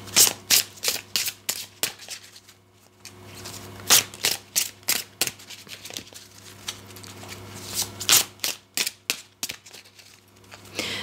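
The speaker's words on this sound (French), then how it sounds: "On va tirer une carte de l'oracle de la Terre Sacrée." Cards from a Terre Sacrée oracle deck being shuffled and drawn, a run of crisp, close riffling snaps and slaps coming in quick bursts with short pauses, alone with no talk.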